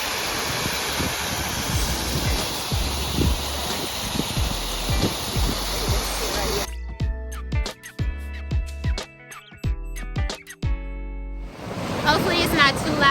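Water rushes outdoors near a waterfall, a loud continuous roaring hiss that cuts out abruptly midway, leaving sparse sounds, then returns strongly at the end.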